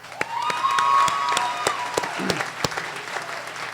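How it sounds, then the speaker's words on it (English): Scattered, sparse claps ring out in a large hall at the Kirtland Community College commencement, with isolated sharp hand claps over a faint sustained tonal hum. "And let's have a round of applause for them."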